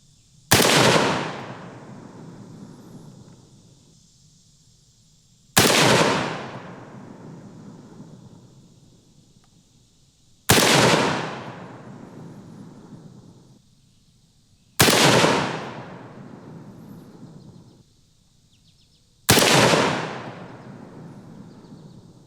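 Five loud, widely spaced single gunshots from a PTR-91 rifle fired at a target range, each sharp crack followed by a long decaying echo, with no talking.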